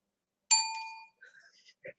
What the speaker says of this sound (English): It was the bell that did it this time.